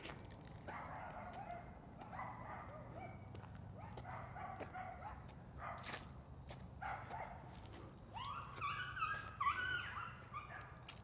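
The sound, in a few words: dogs barking and fighting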